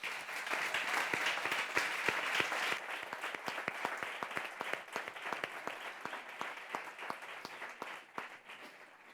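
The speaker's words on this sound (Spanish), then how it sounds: "Pues yo creo que un aplauso" Audience applause fills an event hall, a thick continuous clatter of many hands with sharper individual claps standing out, loud at first and gradually thinning toward the end, with no talking.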